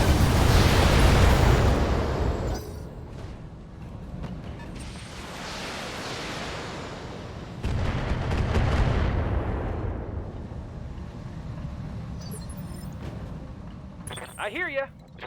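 Heavy artillery fire in a video game booms out in long, rumbling blasts, with big bursts at the start and again about midway, while voices talk over the barrage throughout.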